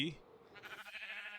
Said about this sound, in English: I got the sheep farm running